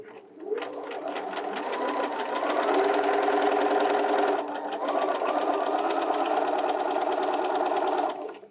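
A Bernina 325/335 sewing machine stitching fabric, running in a steady fast mechanical whir with rapid rhythmic needle ticks, close and loud, with a brief slowdown midway before stopping.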